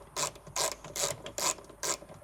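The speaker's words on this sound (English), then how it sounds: "I'm going to take that bolt out there." A ratchet wrench loosens a seatbelt bolt in a wrecked Audi S3. Five evenly spaced ratcheting bursts are heard close up, with no talking.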